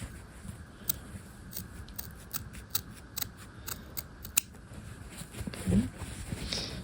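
Scissors make small cuts in fabric for a bound buttonhole on a half-scale jacket, a run of quiet, close, crisp snips spaced irregularly, with a soft handling rustle near the end.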